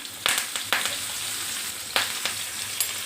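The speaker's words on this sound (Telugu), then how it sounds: "కరివేపాకు వేసుకోవాలి కరివేపాకు వేసుకొని" Curry leaves crackle and sizzle in hot oil with asafoetida powder, a tempering for a Malabar spinach and raw mango curry; a steady close frying hiss with several sharp pops, no talking.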